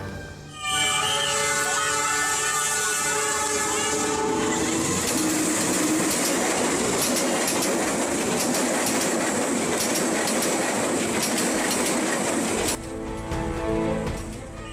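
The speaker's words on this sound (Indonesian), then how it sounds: "Inilah video amatir warga yang merekam kereta api Malabar melaju kencang dari arah timur menuju arah stasiun Bandung." Malabar passenger train speeding through a level crossing toward Bandung station, a loud sustained roar of rolling wheels and rail clatter lasting most of the clip, with a horn-like tone at the start and the noise easing near the end.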